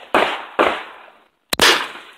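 Three sharp gunshots from pistols or a shotgun at an outdoor gun range, loud and close, the first two about half a second apart and the third after a pause, each with a short echoing tail.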